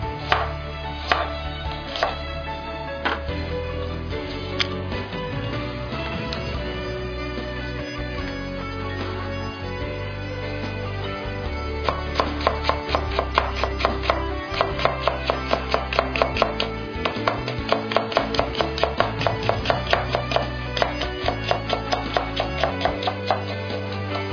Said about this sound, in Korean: 당근도 썰어주시는데 당근은 살짝만 들어가게 해요.